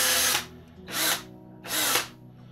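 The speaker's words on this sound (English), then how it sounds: "I want to drill right through the other side" Power drill boring a hole straight through a homemade camera shotgun mic shock mount, three loud whirring bursts of about half a second each, separated by short pauses, close up with no talk.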